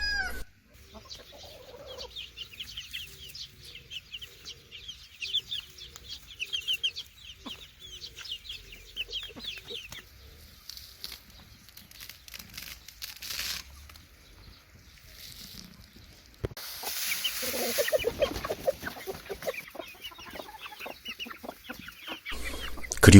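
Chickens cluck steadily on a farm fed with harvested oats and barley, a stream of soft repeated clucks and murmurs from several nearby birds, with some rustling and a louder burst of handling noise toward the end.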